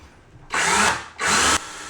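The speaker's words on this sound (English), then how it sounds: "I'm going to put some finish nails through it, but I'm going to drill it first." A power drill boring a pilot hole through an oak threshold before finish nailing, in two loud, steady bursts of about half a second each, separated by a short pause.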